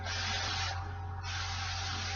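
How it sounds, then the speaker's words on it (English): Canola oil cooking spray hisses onto pans in a close, bright continuous spray, with a short dip partway through before the spray resumes. "canola oil. I'm just going to spray it on"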